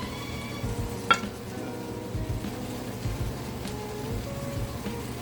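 Red onion stir-fries in a pan for shrimp fried rice with a soft, steady crackling sizzle. One sharp utensil clink sounds early and faint scraping follows.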